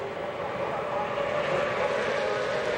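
IROC race cars at Texas Motor Speedway run at full throttle, a steady loud droning engine roar that holds without letup, blended with the broad wash of crowd and track noise.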